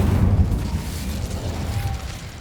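A fire spell bursts from a wand in Hogwarts Legacy, giving a loud, rumbling whoosh that stays heavy for about two seconds before easing slightly.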